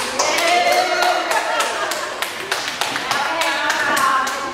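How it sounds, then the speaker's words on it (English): Scattered, uneven hand claps from an audience at a Pasifika Fusion speech session, applauding volunteers; the claps sound thin and intermittent, with a voice speaking over them throughout. "I just want to give a round of applause to our volunteers"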